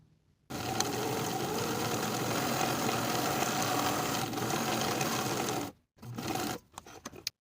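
A sewing machine edge-stitches along the fold of a jacket placket, a loud, close, unbroken mechanical whir that runs for about five seconds before stopping and giving a few brief follow-up bursts.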